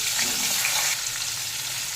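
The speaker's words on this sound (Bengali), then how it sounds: "সব সবজিগুলোকে দিয়ে নুন দিয়ে ভেজে নিচ্ছি" Pumpkin, potato, eggplant and papaya sizzle and crackle in hot oil with salt, a dense hissing fry that eases slightly partway through.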